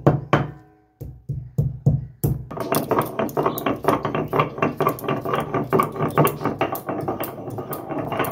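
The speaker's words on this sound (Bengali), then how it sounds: "আমি ঘরেই শিলে গোটা গরম মশলাটা বেটে নিচ্ছি" Whole garam masala ground by hand on a stone shil slab indoors: a few separate knocks open, then a steady, rhythmic stream of close scraping, grinding strokes continues without pause.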